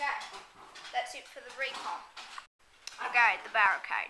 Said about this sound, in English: I'm really sorry about the dog in the background because he's getting kind of annoying.